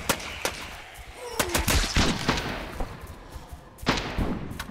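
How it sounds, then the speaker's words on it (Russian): Gunfire in the zombie shooter game Dead Raid: several sharp shots crack out at irregular intervals, some in quick bursts, with a later pair of reports, heard over a steady background rumble and no talk. "Там стрельба, значит, там игроки где-то."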